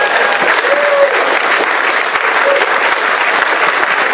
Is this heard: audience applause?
yes